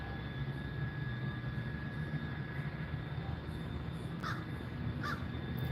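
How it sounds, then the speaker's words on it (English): Outdoors, two sharp crow caws ring out late, moderately near, over a constant broad rumble like distant aircraft or traffic, with no talk. "Is that what crows sound like?"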